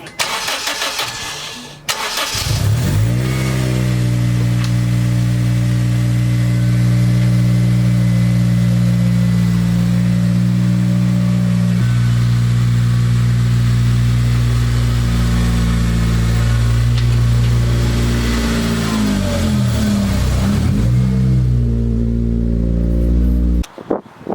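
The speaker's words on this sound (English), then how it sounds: "I'm gonna back the car out now and see how it clears the driveway." A car engine starts with a short crank, then idles and revs gently while reversing out of a driveway, a loud, close, steady engine hum with small shifts in pitch, ending with a quick cut.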